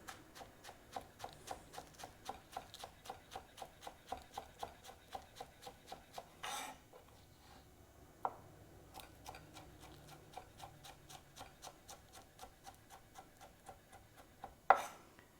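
A knife chops an onion on a board with a steady rocking rhythm, producing quick, even, close taps that pause briefly now and then before resuming, with a couple of sharper knocks in between.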